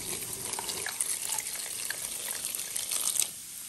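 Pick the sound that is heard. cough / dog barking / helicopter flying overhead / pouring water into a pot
pouring water into a pot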